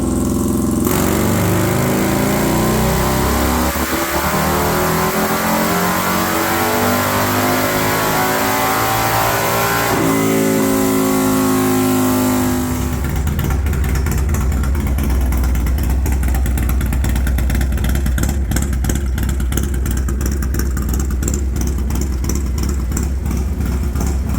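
A Harley-Davidson Street Glide with a rebuilt 117ci Milwaukee-Eight Gen II engine runs on a dyno, loud and close, climbing through long sweeping revs before dropping into a rough, pulsing idle that throbs on to the end.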